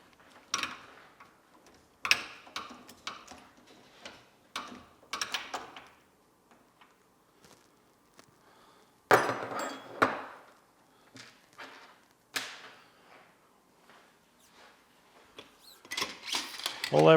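A socket wrench with a 19 mm socket ratchets off the base nut of an MX-Tech Ravens motorcycle fork, close bursts of rapid clicking separated by pauses and quiet handling noises.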